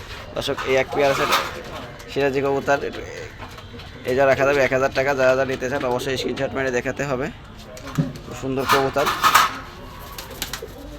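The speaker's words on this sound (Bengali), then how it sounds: "কবুতর আরও অনেক কবুতর আছে যে আপনাদের সব দেখানো যাচ্ছে না" Pigeons at a pigeon shop in Gollamari, Khulna coo softly in the background while someone talks steadily over them for most of the stretch.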